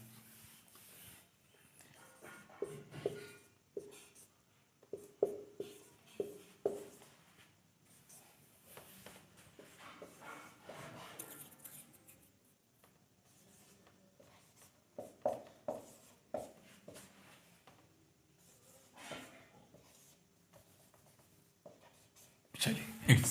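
Pen scratching on paper as someone handwrites math working; faint, intermittent strokes and scribbles come in clusters over about twenty seconds, close by in a quiet room, with no talking.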